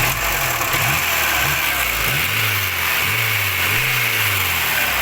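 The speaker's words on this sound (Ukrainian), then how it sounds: "підгазую зразу" A 1996 Volkswagen Golf 3 engine, in good running condition, is revved in short bursts. It rises and falls several times over a steady idle, loud and close, and no one speaks.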